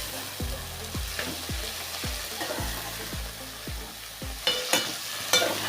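Fenugreek leaves frying in a pan are stirred, giving a steady close sizzle broken by about eight regular low scraping strokes, followed by a few sharper clinks near the end.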